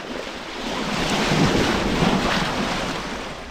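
Steady wind roar and rushing sea surf on a sailboat at sea during an ocean race, continuous and fairly loud, swelling in the middle with no voices.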